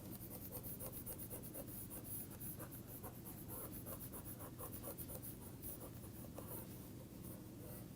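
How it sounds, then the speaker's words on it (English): A board being wiped clean during a lecture on nonlinear and dispersion effects, a steady dry rubbing and scraping with rapid repeated strokes filling the whole span, fairly close and continuous with no voice. "we can erase this part"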